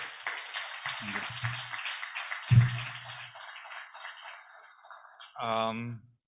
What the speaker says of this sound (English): a round of applause for the APNIC team here